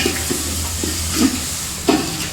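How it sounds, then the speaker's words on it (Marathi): Masala for a village-style besan dish sizzles loudly in a pan, a continuous close fry noise broken by a few scraping stirs of a spoon. "अशा पद्धतशीर एकदम मसाला पूर्ण फ्राय झाला पाहिजे"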